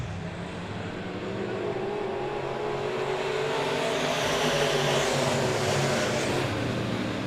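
Dirt-track race cars at Monett Motor Speedway roar steadily at full speed as a feature race restarts, engines layered loud and continuous with rising intensity throughout.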